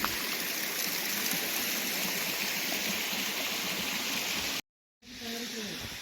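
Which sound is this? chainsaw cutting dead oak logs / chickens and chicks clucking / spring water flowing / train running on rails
spring water flowing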